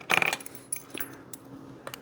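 Two keys for a new old stock vintage carpenter rim lock jangle close by: a dense metallic rattle at the start, followed by a few scattered lighter clinks and taps.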